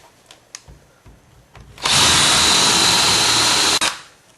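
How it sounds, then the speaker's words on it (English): A power drill bores into the wooden leg of a Kenya top bar hive in one loud, sustained burst of about two seconds, preceded by a few light knocks and handling sounds. "while I drill this other one"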